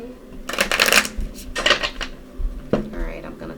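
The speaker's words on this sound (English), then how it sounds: "And I'm just going to shuffle." Tarot cards are shuffled in several quick riffling bursts, close and crisp, with short pauses between them.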